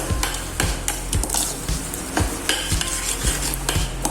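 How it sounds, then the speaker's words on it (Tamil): A spoon stirs and sautés paste in a pan for tomato kuruma. Brisk, rhythmic scraping and knocking sounds up close, with a sizzling fry hiss underneath. "நல்லா வதக்குங்க"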